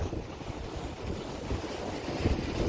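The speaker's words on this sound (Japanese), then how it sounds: "まだ波が残ってるんですよね。" Rough surf and wind at a rocky seashore fishing spot on Jogashima, Japan, in mid-January after strong south-southwesterly winds: a loud, continuous wash of waves with wind buffeting the microphone, with no voices.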